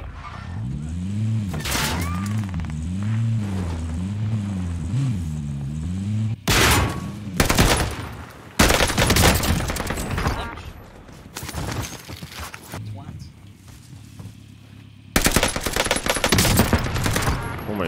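Bursts of gunfire ring out in a Call of Duty match on the Caldera map, several loud broadband volleys spread across the span over a steady droning engine-like background, with voices talking at times.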